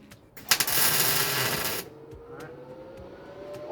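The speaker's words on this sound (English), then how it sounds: "So now we're trying to weld a nut onto the bolt to get it out." A nut is welded onto a snapped bolt on a Sprinter van. There is one short, close, crackling burst of welding lasting just over a second, then quiet with a few faint clicks.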